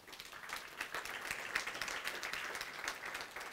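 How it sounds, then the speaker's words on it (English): An audience in a conference room gives a sustained round of applause for a man in the room, the clapping fairly faint and distant but steady throughout. "Give him a round of applause."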